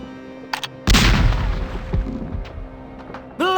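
A cannon booms on a pirate ship in The Curse of Monkey Island, one loud close blast with a rumbling decay, preceded by small clicks and followed by a short bright sound.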